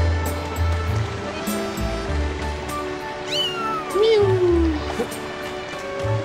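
In The Legend of Zelda: Skyward Sword, a game cat gives a couple of rising and falling meows over background game music and ambient surf-like wash, with a voice also present.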